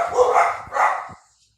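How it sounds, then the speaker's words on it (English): A dog gives two loud, close barks in quick succession, then quiet, heard in a studio setting. "Dogs think somebody's here."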